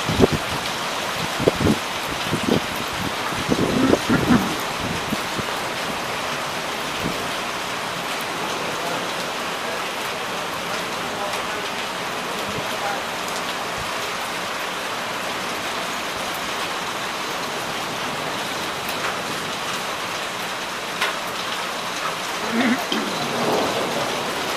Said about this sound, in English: Raining pretty hard and had a little bit of hail, but not big enough to do anything, just enough to rattle the steel roof over there.